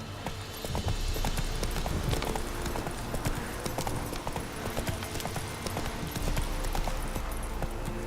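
Roach, a horse in The Witcher 3, galloping with rapid rhythmic hoofbeats clip-clopping steadily and close throughout.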